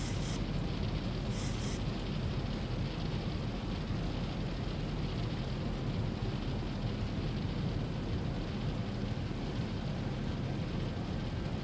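Simulated rain and rumbling thunder from a storm in a Boeing 737 flight simulator, a dense continuous wash of rain noise with low rumble throughout, steady and loud with no talking.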